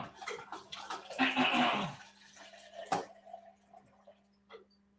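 Tap water runs and splashes for about a second, loud and close, with faint dripping and a steady hum after it stops.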